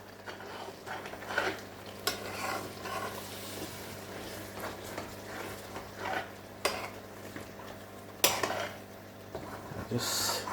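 Chicken jalfrezi is stirred in a pan and the bottom is scraped, giving soft metallic scrapes and clinks over a low simmer, with occasional sharper knocks. The sounds stay faint and close, with quiet talk at times.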